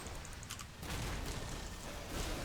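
A muffled explosion in World of Warcraft during a Mythic Plus dungeon run, a brief burst followed by a dense, sustained rumbling roar mixed with game effects.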